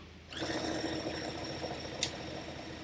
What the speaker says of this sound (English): we are just going to give it a top stitch here at the fold. So I'm going to do that now.